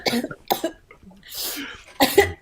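A person coughs in several harsh, close bursts spread across a couple of seconds, with short pauses and a drawn-out raspy stretch between the fits.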